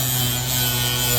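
Continuous close whir of an orbital sander working rust and corrosion off old scraper tools, a steady unbroken grinding drone.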